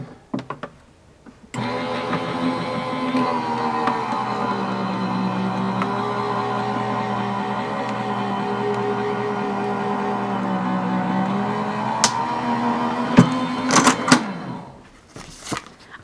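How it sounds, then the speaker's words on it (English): Electric die cutting machine cutting paper with a die, a steady mechanical hum and whir running continuously for about twelve seconds after starting, with a few sharp clicks near the end as it stops. "Run that through my die cutting machine."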